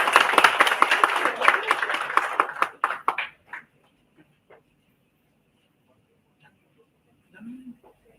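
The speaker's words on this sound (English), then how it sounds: "Can we have a huge round of applause for Reena Paladi ma'am?" Audience applause and clapping for Reena Paladi at a university student film festival, a dense burst of clapping for about three seconds that quickly dies away, followed by near silence with a few faint sounds.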